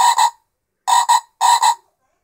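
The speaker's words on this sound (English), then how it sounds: "See if I can get this thing to make its ribbit ribbit sound." A cheap Poundland toy frog sounds its electronic ribbit croak in three double-pulsed bursts, each a quick two-note croak separated by short silences, close and fairly loud with no talking.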